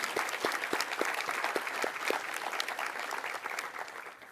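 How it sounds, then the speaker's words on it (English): An audience at a sustainability summit gives a round of applause, a steady, moderately distant wash of many hands clapping that tapers slightly toward the end. "Let's give them a round of applause"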